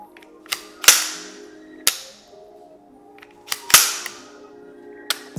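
A B&T APC9 Pro with a light flat-faced Elftmann tactical trigger gives sharp, close metallic clicks as it is pulled and reset, in loose pairs of a softer click and a crisper snap, with nothing else audible.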